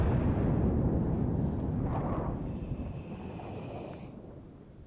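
Naval gun shells landing in World of Warships, a heavy low rumbling blast and splash that rolls on and gradually fades, with no talking.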